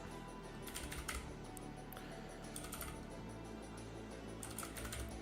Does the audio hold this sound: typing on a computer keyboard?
yes